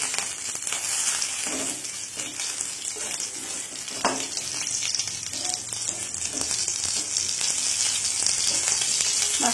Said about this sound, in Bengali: এই যে মাছটা ভাজা হতে থাক